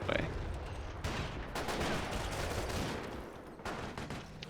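FG-42 automatic rifle fire in the Company of Heroes real-time strategy game, dense rattling bursts of gunfire with battle noise, loud and continuous across the clip.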